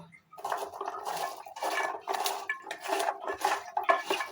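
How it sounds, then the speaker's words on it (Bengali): Bottle gourd greens and jackfruit seeds being mixed with oil in a pot for a village-style dish, giving repeated clattering metal scrapes and clinks in an uneven rhythm, close and fairly loud, with no talking. "এখন আমি মাখিয়ে নেব।"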